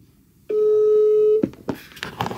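A single telephone ring tone on an outgoing call sounds as one steady electronic beep lasting about a second, loud and close, then cuts off as a voice starts talking.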